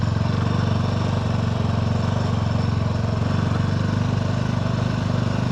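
A Sothassi 400 Classic motorcycle, a neo-retro old-school style bike, thumps along steadily while being ridden on rough industrial-area roads, its engine a loud, constant low pulsing drone with wind roar and no break.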